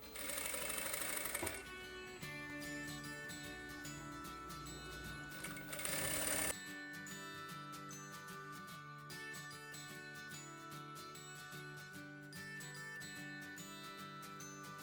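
Domestic sewing machine running a seam on an elastic waistband of pantacourt trousers, with steady whirring runs broken by brief pauses and a louder burst near the start, close and clear with no talk.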